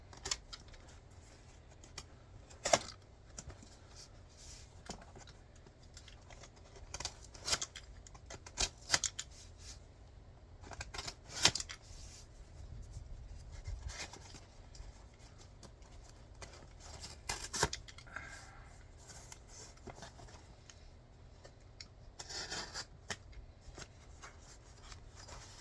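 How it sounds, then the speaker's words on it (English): Notches being cut into the foam lining of a knife and gun case: faint, scattered scraping and snipping sounds with irregular pauses over a quiet background, and no talking. "And then I'm just cutting a few notches in here"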